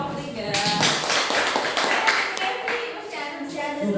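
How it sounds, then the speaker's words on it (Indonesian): A class group claps for the third group's presentation in a burst of brisk, close hand claps, with voices speaking over the applause. "Oke, aplaus untuk kelompok 3"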